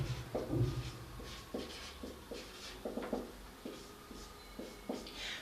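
Chalk or marker scratching out a heading on a classroom board during a physics lesson, a series of short, uneven strokes and taps at moderate volume, with no voice over them.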